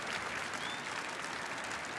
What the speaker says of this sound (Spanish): Y se está aplaudiendo